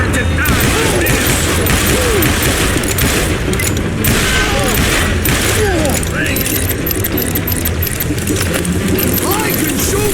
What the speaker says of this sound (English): I can shoot too!